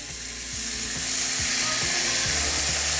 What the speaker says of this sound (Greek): να το σβήσουμε που λέμε στη μαγειρική για να ξεκολλήσουμε τις ουσίες από την κατσαρόλα